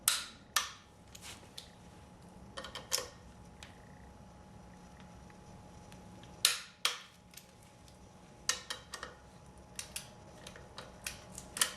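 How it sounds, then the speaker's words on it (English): Torque wrench tightening bolts to 33 foot-pounds on a Nissan SR20DET engine during a 240sx swap, sharp close metallic clicks coming singly and in irregular clusters over faint background noise. "We're going to torque ours down to 33 foot-pounds in the pattern we just went over."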